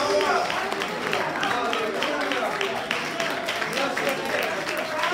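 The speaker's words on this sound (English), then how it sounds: "clap your hands, and give God the praise" A church congregation at a revival service claps hands in praise, a sustained mass of clapping and voices running together at steady volume, with singing or shouting mixed in.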